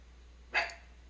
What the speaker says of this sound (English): No barking, Lily.